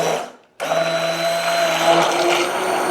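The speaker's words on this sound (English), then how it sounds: "And so I use an immersion blender for this." An immersion blender whirs loudly as it mixes xanthan gum into a fermented hot sauce, starting after a brief stop and then running as a steady high-pitched motor drone with slight pitch wobble.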